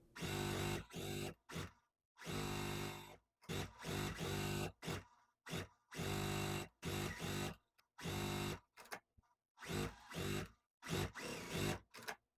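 A sewing machine stitches the corners of a quilt block in short, loud bursts of rapid whirring, stopping and starting about a dozen times with brief silent gaps between runs.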